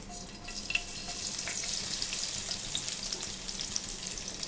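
Chopped onion sizzles steadily in hot oil in a pan, a constant close crackling hiss with a few small pops, with no voices.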